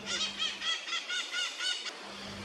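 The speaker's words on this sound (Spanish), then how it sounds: "Estos árboles son el hogar de una especie muy conocida por imitar la voz humana, el loro hablador." Turquoise-fronted parrots call from trees in the Chaco forest, a series of harsh, raspy squawks repeating in a quick rhythm, fairly close and clear over a low steady hum.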